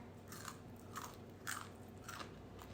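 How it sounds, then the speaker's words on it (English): Someone bites into a dehydrated asparagus snack seasoned with garlic and sea salt, producing four sharp, crisp crunches at a steady pace, close and quiet, with no talking. "Y'all hear that crunch?"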